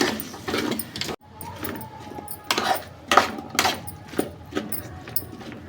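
Spoon scraping and clinking against a pan while mixing potato curry seasoned with salt and a pinch of turmeric, irregular close metallic taps and scrapes at moderate volume.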